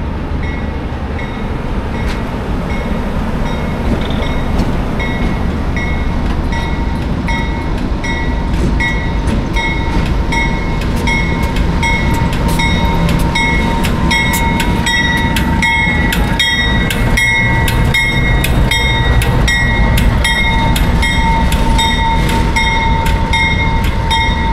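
The Ghan passenger train being pushed back along an outback station platform, a steady loud rumble of rolling railcars with clicking wheels and faint metallic squeals, no talking.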